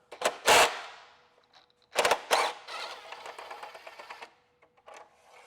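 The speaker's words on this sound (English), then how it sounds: "So we've got some 10mm in here. The bolts will come out." A ratchet works loose 10mm bolts on the turbo of a Mini Cooper N14, giving rapid bursts of clicking separated by pauses, close and fairly loud.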